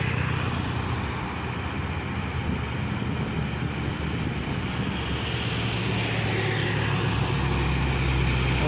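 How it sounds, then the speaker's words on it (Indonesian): A Hino bulk cement tanker truck drives by, giving a continuous low engine rumble and broadband road noise that stays steady and fairly loud throughout, with no voices. "Hino tangki semen curah nih guys."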